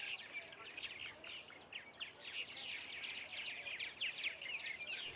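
A large martin colony in a Travis County, Texas neighborhood chatters continuously, with many overlapping chirps and calls forming a dense, steady chorus at moderate distance with no talking.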